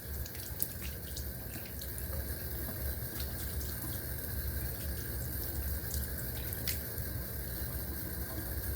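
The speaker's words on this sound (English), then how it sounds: "Let's rinse off." Tap water runs steadily into a sink as a razor is rinsed mid-shave with sandalwood cream, a constant close splashing stream with a few faint clinks, no voices.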